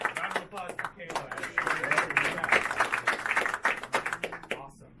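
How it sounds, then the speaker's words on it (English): A small audience at a magic show applauds a participant after a card trick. The claps are crisp and uneven, at moderate distance, with voices and cheering mixed in. "Round of applause for Kayla."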